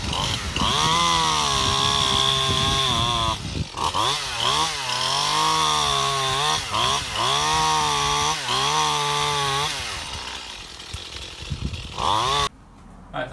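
A professional chainsaw for garden work runs close and loud, its engine revving up and down in repeated surges with a steady idle between, before cutting off near the end.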